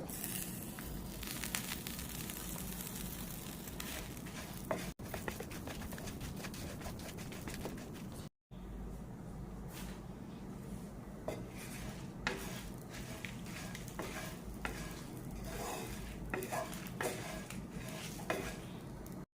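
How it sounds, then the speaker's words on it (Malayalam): Spices and curry leaves dry-roasting in a pan for a Kerala fish curry, a low steady hiss under repeated scraping and clinking of a spoon against the metal, with one short break partway through. "പൊടിച്ചെടുക്കാൻ പാകത്തിലാണ് നമ്മളിത് വറുത്തെടുക്കുന്നത്."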